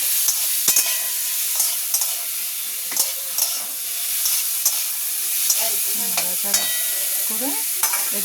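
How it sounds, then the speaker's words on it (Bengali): Food with turmeric stirred in a hot pan, a loud close sizzle and hiss running throughout while a spoon scrapes and taps the pan in repeated irregular strokes, with no speech. "হলুদ দিয়ে দেবো, একটু নাড়াচাড়া করে"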